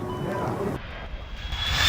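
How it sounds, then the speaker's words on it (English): A zero-G parabolic flight airplane in France, its engine roar steady and fairly loud, with a voice talking over it early before the noise thins and rises again. "behind me is a zero-G plane"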